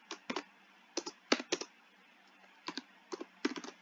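Clicky computer keyboard typing in short bursts of several quick keystrokes separated by brief pauses, close and fairly quiet, with no talking.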